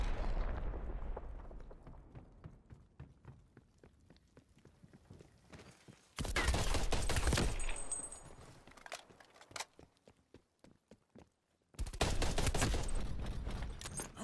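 Bursts of Type 63 rifle gunfire in Call of Duty: Cold War, loud dense volleys around six and twelve seconds separated by quieter game noise and scattered single shots.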